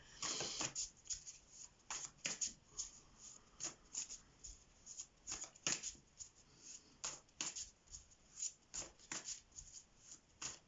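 Tarot cards are shuffled and pulled in a quiet room, producing a close, soft series of crisp riffles and slaps in uneven bursts, each lasting under a second, with no talking.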